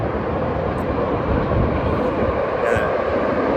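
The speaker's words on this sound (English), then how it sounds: "let the train go. You can see the train." A passing train gives a steady, loud broadband rumble and rush that holds evenly for a few seconds, with a faint higher whine riding on top.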